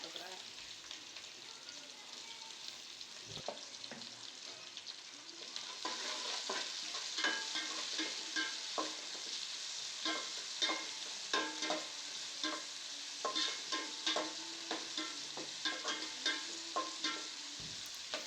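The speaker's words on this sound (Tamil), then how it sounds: "இதையும் போட்டு நம்ம வதக்கிக்கலாம்." Onions sautéing in a pan for fish curry, a soft sizzle under frequent scraping and stirring clicks from a utensil, getting busier after a few seconds; faint and close.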